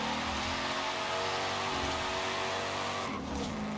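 Stock Ford Mustang Cobra in Forza Horizon 5, a loud continuous engine drone holding steady revs, then a brief dip and shift near the end, with no talking.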